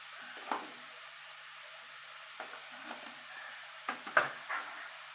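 Chickpea greens seasoned with salt and turmeric get stirred in a pan, a quiet bed of sizzle broken by a few soft spatula scrapes and clinks, faint and close.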